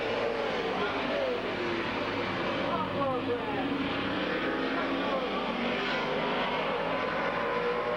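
Late model race cars racing at Midvale Speedway, a continuous loud roar of engines circling the track, with an announcer talking over it.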